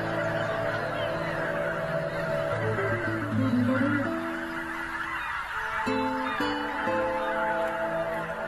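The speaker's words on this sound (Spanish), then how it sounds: "El regreso de los gansos anuncia la llegada de otra primavera." A flock of geese returning in spring honks loudly and continuously, overlapping calls rising and falling in a dense, noisy chorus close by.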